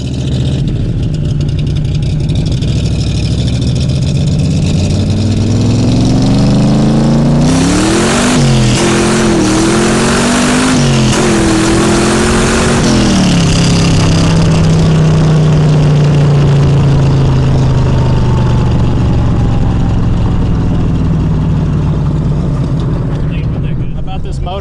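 Ford V8 engine in a Lonestar Cobra replica with a 5-speed running close by, rumbling at idle, then revving several times in quick rising bursts before settling back to a steady, loud idle, with a voice talking over it.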